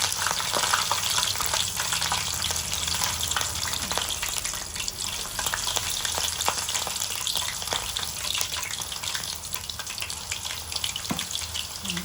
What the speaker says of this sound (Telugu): కరివేపాకు కూడా వేస్తున్నాను